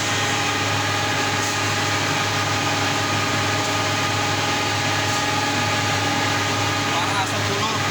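A wood moulder machine runs with a steady, continuous mechanical drone and hum, its spindle bearing worn and wobbly, filling the whole stretch without pause at a close, even level.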